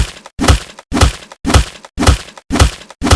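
Heavy thwacks of a person being beaten in a Hindi comedy skit, six loud, evenly spaced blows about half a second apart, each with a short ringing tail and no talk.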